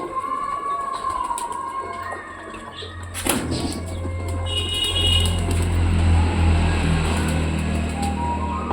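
Pigeons coo softly over a low traffic hum, with a sudden flutter of wings bursting in near the middle.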